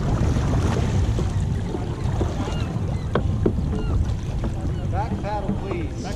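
Dragon boat paddles pull backward through the water during a race, splashing and churning steadily amid wind noise on the microphone, with faint voices in the background.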